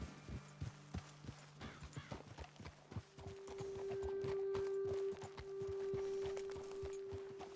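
Horse hooves clip-clop in a steady walking rhythm on a trail in Red Dead Redemption 2, close and clear, joined midway by a sustained musical tone in the background.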